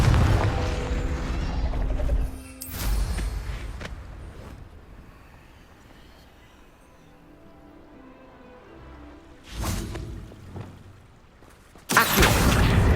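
A Confringo blasting spell in Hogwarts Legacy goes off with loud, broadband booming bursts, a few separated blasts and crashes over quieter game ambience, the last one sharp and close.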